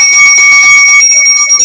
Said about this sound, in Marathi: हँगिंग बेल्स येतील